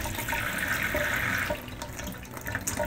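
Water gushes and splashes out of a bunch of water balloons being filled at once outdoors, a steady rushing stream that eases slightly partway through, close and alone.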